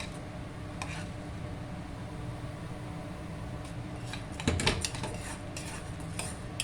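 Dal lentils roasting in a pan, with a steady low sizzle, faint scraping and occasional clinks of a utensil against the metal, and a slightly louder stir near the end.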